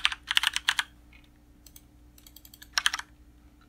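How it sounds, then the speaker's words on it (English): Typing on a computer keyboard, with two quick bursts of close keystrokes separated by a near-silent pause and a few isolated taps, over faint steady hum. "So we need to type that custom domain here."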